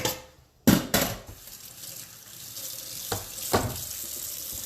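Kitchen tap running into a sink while hands are washed, a clunk as the water comes on, then a steady close splashing stream with a few knocks and splashes.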